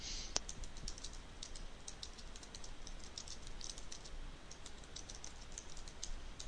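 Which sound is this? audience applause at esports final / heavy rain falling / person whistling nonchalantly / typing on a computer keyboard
typing on a computer keyboard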